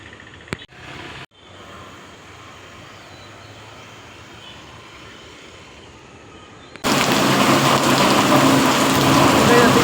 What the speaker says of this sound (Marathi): पाऊस सुरू झाला आहे.